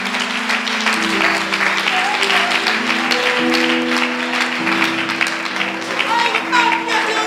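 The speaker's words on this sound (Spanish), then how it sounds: "Pero alguien tiene que aplaudir a Dios, por favor." Congregation clapping during a Spanish-language church healing service, sustained applause throughout, with voices and sung tones layered over it.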